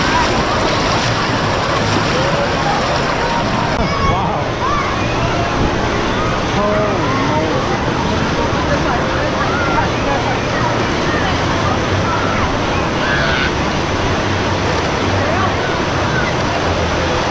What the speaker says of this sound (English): They're good sized waves.